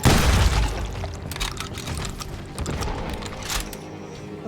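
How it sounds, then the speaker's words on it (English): Gunfire in a western town street in Call of Juarez Gunslinger: a loud opening boom followed by a dense run of sharp cracking shots and rattling impacts, close and continuous, with brief voices mixed in. "They're shooting in the street!"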